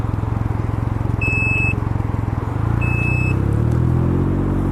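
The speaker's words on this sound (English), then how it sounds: "Now I'm going to demonstrate the reverse parking ability of this bike." Can-Am Ryker 900 ACE three-wheeled motorcycle idling with a steady low engine rumble while being reversed, with two short electronic beeps sounding over it.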